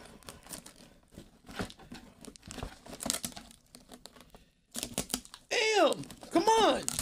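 Heavily taped fan mail package being torn and wrestled open: crinkling tape and cardboard rips in bursts, growing louder toward the end, with someone talking over it.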